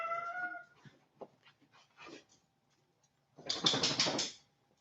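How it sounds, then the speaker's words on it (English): A cat named DeSoto gives a short tonal meow at the start, followed by faint scattered rustles and a louder burst of noise near the end. "That was my cat."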